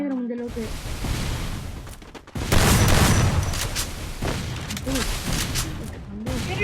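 Grenade blasts and gunfire in a multiplayer shooter game, with a heavy boom midway followed by rattling shots and bursts, while a voice talks over the action.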